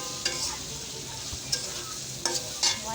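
Poppy seed paste being stir-fried in a pan for a potato dish, giving a steady low sizzle with a few sharp spatula clicks and scrapes against the pan.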